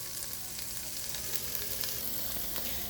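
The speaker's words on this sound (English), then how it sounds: "I'm gonna add the tomatoes. And I'll let this also saute for just a tad bit." Tomatoes sauté in a pan with onions, garlic, scallions, sweet peppers and bok choy for Guyanese chowmein, giving a continuous, even hiss of sizzling oil with small crackles and no talking.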